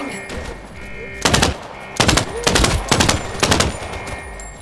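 Rapid bursts of gunfire from the video game Crime Boss: Rockay City, five loud automatic volleys spaced a second or so apart over a steady background of game ambience.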